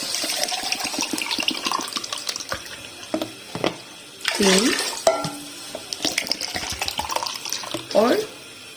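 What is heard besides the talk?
water being poured into a pot for biryani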